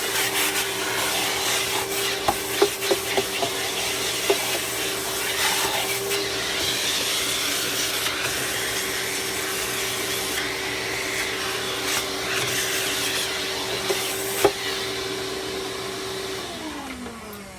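A vacuum cleaner runs steadily up close for a long stretch, sucking debris out of a wooden part with scattered rattles and clicks of material going up the hose, then cuts off at the very end.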